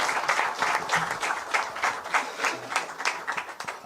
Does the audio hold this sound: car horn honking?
no